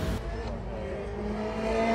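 A Praga race car from a Britcar Championship team drives past close by with a loud, steady engine roar that builds toward the end. No one speaks.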